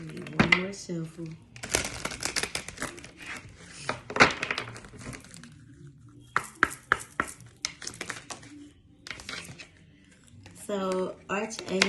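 Tarot cards are shuffled in crisp bursts of riffling and tapping, scattered irregularly between stretches of a person talking nearby.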